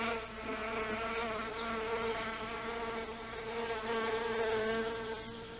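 A male bee flying toward an orchid gives a close, steady buzzing drone with rich harmonic tones, swelling slightly in loudness but continuous throughout, with no voices.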